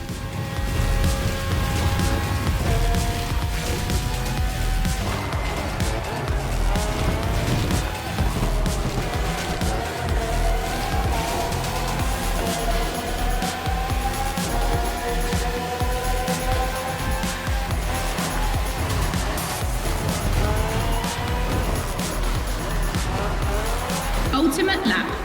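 Red Bull Formula 1 cars from four generations, RB13, RB14, RB18 and RB20 with Renault and Honda engines, racing in The Crew Motorfest: continuous high-revving engine whine rising and falling through gear changes, with tire squeal, under steady commentary.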